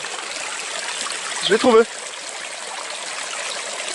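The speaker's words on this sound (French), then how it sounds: "Quand je disais tantôt que j'approchais d'un petit cours d'eau" A small stream flowing in the Tatai jungle, Koh Kong, Cambodia, a steady close rushing trickle throughout, with a short spoken phrase over it.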